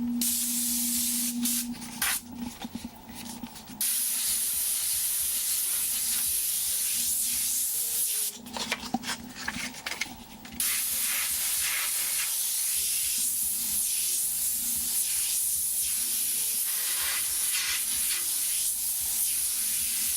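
Airbrush spraying paint around background edges, a continuous close airy hiss broken by two short pauses where the spray stops before resuming.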